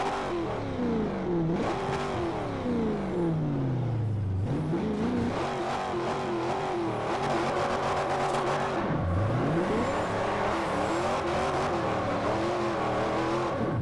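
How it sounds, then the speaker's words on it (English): A car engine revs hard and continuously while drifting on a track, pitch sweeping up and down through repeated shifts and throttle lifts, loud and close with tire noise underneath. "Listen to the motor."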